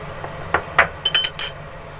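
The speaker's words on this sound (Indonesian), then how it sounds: "Mengocok telur yuk" A whisk or fork clinks against a bowl while eggs are beaten at home, several quick metallic taps in a short uneven burst, close and fairly loud.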